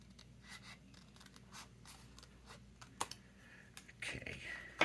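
Scissors snip and trim a piece off a cuckoo clock gift box, a series of short crisp cuts and paper rustles at close range.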